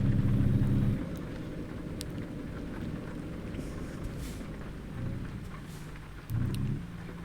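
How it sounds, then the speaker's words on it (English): Steady rain hisses across a stretch of road in the game American Truck Simulator, set in Oklahoma. A low rumble of thunder or engine drone sits underneath and swells briefly at the start and near the end. "we get to enjoy the nice Oklahoman rain"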